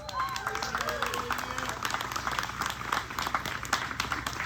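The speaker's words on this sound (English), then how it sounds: "Give them a round of applause" A museum audience at a live radio show in New Albany, Mississippi, claps steadily in a sustained round of applause, moderately loud, with a few voices and a faint tonal sound threading through.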